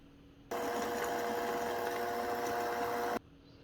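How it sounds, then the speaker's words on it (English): An electric whisk beating cream cheese and sugar, a steady close whirring drone that starts abruptly, runs unbroken for under three seconds, and cuts off cleanly. "So now I'm going to give that a whisk."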